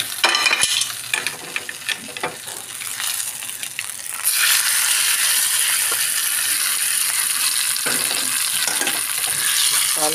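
Tempering of cumin, small onion paste and moong dal in hot oil, sizzling strongly in a pan while a spoon scrapes and stirs with irregular clinks; the frying hiss swells louder and steadier partway through.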